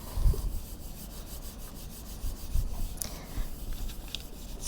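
Paper being rubbed down by hand onto a gel printing plate, a soft dry scraping and brushing that continues steadily with a few light thumps, fairly faint and heard from a distance.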